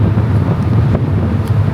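A car ferry in Japan's Kyushu region gets under way at sea, a steady low engine rumble under loud gusting wind buffeting the microphone, with no talking.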